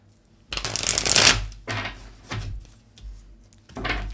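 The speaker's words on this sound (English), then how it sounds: "Let me get one more shuffle. They said shuffle one more time." Tarot cards riffled and shuffled by hand in several bursts: a long loud run, then shorter quieter ones with pauses between, close and dry with no talking.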